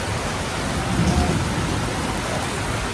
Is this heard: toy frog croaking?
no